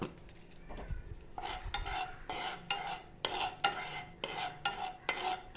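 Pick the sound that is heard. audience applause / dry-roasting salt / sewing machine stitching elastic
dry-roasting salt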